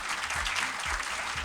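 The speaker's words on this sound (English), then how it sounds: "Can we have applause, please?" An audience claps for a prize winner at a session, a steady, soft wash of many hands with no talking over it.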